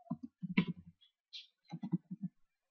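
A search keyword is typed on a keyboard as two short bursts of crisp, close key clicks separated by a pause, with no voice over them.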